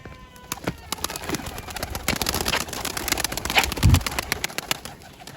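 Young pigeons chirp with quick, rapid peeps and let out a low coo, close by. The soft, busy chatter runs throughout with some faint background noise.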